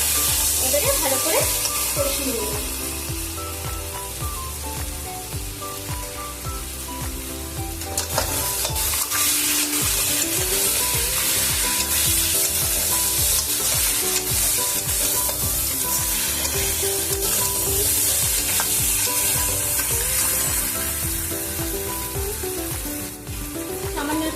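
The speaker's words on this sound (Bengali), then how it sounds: "এবারে আমি মাছগুলো সব মাছ আলু সব দিয়ে দিলাম" Pieces of fish and potatoes for a spicy crab-style fish curry fry and sizzle loudly in a pan, stirred steadily throughout with a constant, dense crackle and scraping.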